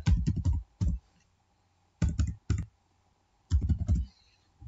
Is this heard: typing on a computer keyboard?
yes